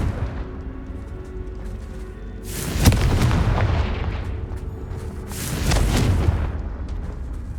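Two heavy explosions from the Confringo blasting spell in the Hogwarts Legacy video game, each a sharp crack swelling into a rolling boom about three seconds apart, over a constant low rumble.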